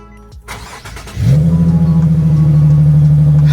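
A car with its battery just reinstalled and charged cranks briefly, then catches and settles into a steady, loud idle that runs to the end.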